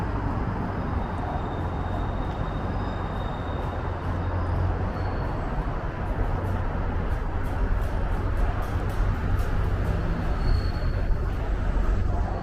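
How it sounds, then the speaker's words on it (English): Continuous loud rumble and clatter of a New York City 7 subway train running past in Long Island City, Queens, with wheel noise and occasional faint squeals, steady throughout. "The 7 train goes into Flushing, Queens"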